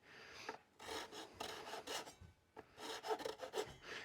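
Quiet, close rasping of a file cutting into the back of a guitar nut slot during an advanced setup, in a series of short back-and-forth strokes with brief pauses between them.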